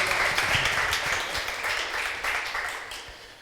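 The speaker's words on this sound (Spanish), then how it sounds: "por favor, un aplauso para Abraham para que empiece" Audience applause in a museum hall for a game-studio speaker taking the stage, steady dense clapping from a seated crowd that slowly tapers off over a few seconds, with no voices over it.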